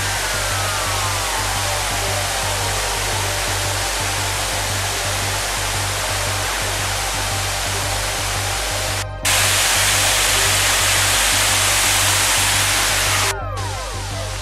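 A waterfall on a hiking trail near Pioraco roars as a loud, dense, unbroken rush of falling water close by, briefly swelling louder toward the end, with no talk over it.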